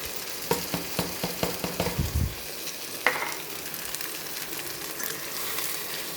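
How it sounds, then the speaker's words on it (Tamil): Blood poured into a pan of cooked masala for a blood fry, bringing a burst of sizzling and clattering stirs early on that settles into a steady, softer frying hiss, with no voices. "மசாலா நல்லா வெந்துடுச்சு இப்போ வந்து இதை ஊற்றிடலாம் இந்த ரத்தத்தை ஊற்றிக்கலாம்"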